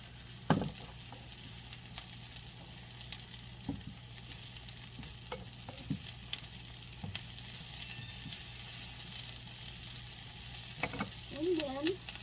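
Chopped onion sautéing in a pan for sarciadong itlog, a steady low sizzle broken by several sharp spatula scrapes and taps, with a low hum underneath and a brief voice near the end.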